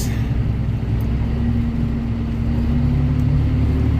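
A farm machine's engine runs at a steady, loud, rumbling idle after a restart during a sweetcorn harvest, with its clutch pack and slip clutch showing trouble; the low droning hum holds constant throughout with no talk.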